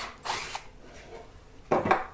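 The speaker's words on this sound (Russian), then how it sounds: "И сверлим второе отверстие." A power drill bores a second hole into wood for a dowel in two short, close whirring bursts separated by a quiet pause.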